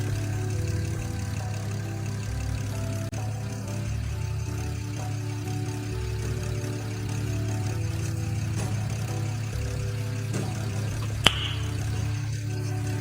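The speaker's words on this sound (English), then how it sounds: "Right now, what you are hearing is the sound of the valve lifters ticking." A BMW 1M with an N54 engine idles steadily nearby, a low even hum with a light ticking from the valve lifters and a couple of sharp clicks.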